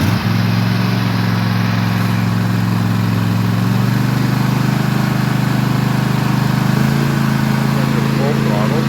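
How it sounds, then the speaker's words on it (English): Husqvarna TS148XK lawn tractor engine running steadily just below fast throttle, a loud, even low drone close by that holds its pitch with a slight rise partway through, with a voice speaking faintly at the start. "It's fueled up, and I'll set the throttle not quite to fast start, and so you can hear what it sounds like."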